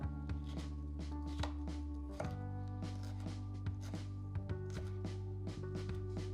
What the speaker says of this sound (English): And now we're going to make a fine brunoise.